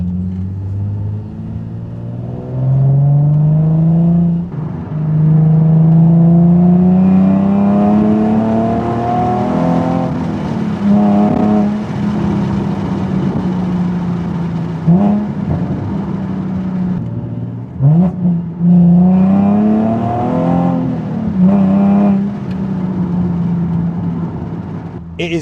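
A Nissan 370Z engine drones and rises through several long accelerations while driving with the window down, loud and close, with gear shifts breaking the pitch sweeps and no talk over it.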